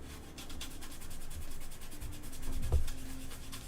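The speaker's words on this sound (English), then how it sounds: "I'm just gonna keep scrubbing at it for a little bit." A cow skull is scrubbed by hand to clean it, giving a steady, close, gritty rubbing hiss that swells slightly, with a brief knock near the end.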